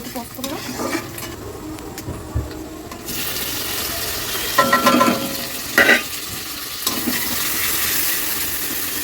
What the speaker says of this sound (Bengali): তাই তো টমেটোটা অ্যাড করলাম, করে একটু নাড়তে হবে।